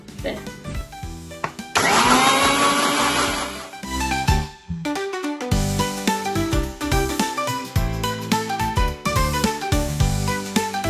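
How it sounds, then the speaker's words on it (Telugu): Mixer grinder blending ingredients for masala buttermilk, running at a loud, steady whir for about two seconds, then cutting off, followed by background music. "మిక్సీ పట్టేసుకుందాం రండి."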